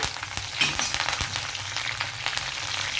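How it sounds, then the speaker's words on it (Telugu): Curry leaves frying in hot oil for a sesame seed chutney, a steady crackling sizzle with sharp pops scattered throughout, close and fairly loud. "కరివేపాకు వేసాను కదా, అది కాలుతుందన్నమాట."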